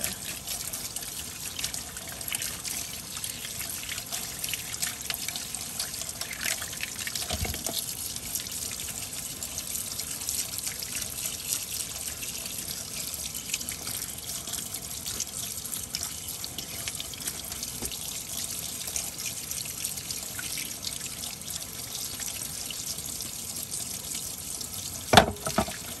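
Tap water runs steadily into a sink while makeup brushes are rinsed clean of soap, a continuous close hiss and trickle with no talk.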